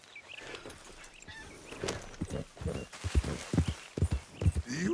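Horse hooves clip-clop in Red Dead Redemption 2, an uneven run of hoofbeats that grows louder and closer, with faint voices in the background.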